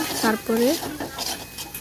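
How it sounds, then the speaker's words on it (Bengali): Chicken pieces and ginger are stir-fried in a pan, with quick spoon scrapes and clatter close by, a brief vocal sound near the start, and a faint sizzle underneath. "এই যে আরেকটু ভালো করে কষিয়ে নিব"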